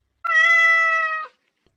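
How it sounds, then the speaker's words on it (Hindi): A single clear, drawn-out cat meow, close and alone against silence, used as a sound effect in a horror story. "अचानक एक कोने से बिल्ली की आवाज आई"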